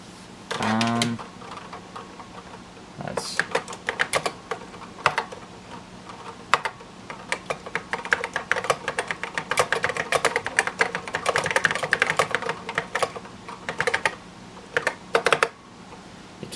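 Heavy keys clack on a 1986 Mac Plus keyboard, starting with a few isolated strokes and then building into dense, uneven bursts of nearby typing with short pauses, over a faint background hum.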